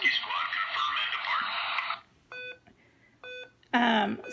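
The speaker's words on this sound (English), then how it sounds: "So that is our timer going off." An electronic timer sounds off: a steady buzzing tone, then two short beeps and a final louder burst of alarm, close and clear.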